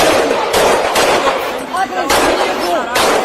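Loud bursts of gunfire from a police officer's shooting crack out in rapid repeated volleys, close and harsh, with Portuguese shouting voices mixed in.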